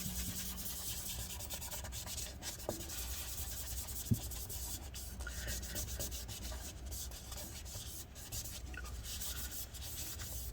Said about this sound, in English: Going to get some rubbing alcohol on it. Okay, and we're just going to clean off this residue here.